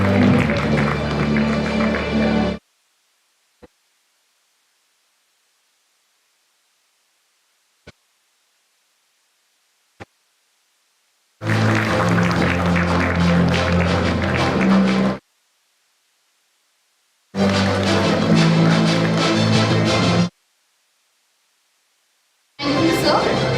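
Applause at an international conference on communication, security and artificial intelligence during a memento and shawl felicitation, heard as several loud bursts of crowd clapping, each a few seconds long, separated by stretches of silence.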